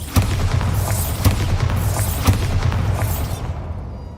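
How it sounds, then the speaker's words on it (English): In Hogwarts Legacy, Bombarda blasting spells go off as deep booming explosions, several heavy thuds with rumbling low ends, loud and near, fading into quiet at the end. "Bombarda."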